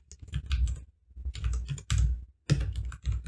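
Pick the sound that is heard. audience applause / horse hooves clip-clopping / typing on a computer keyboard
typing on a computer keyboard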